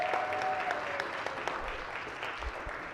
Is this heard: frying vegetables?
no